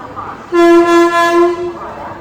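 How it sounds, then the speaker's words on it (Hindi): At a station platform, the Pune AC Duronto Express, hauled by a Kavach-fitted Pune-shed WAP-7 locomotive, is shunted onto platform 4 and gives one loud, sustained horn blast of about a second, over low background rumble. "यहाँ पर दोस्तों अपनी ट्रेन को लगाया जा रहा है अपनी पुणे AC दुरंतो को प्लेटफॉर्म क्रमांक 4 पर"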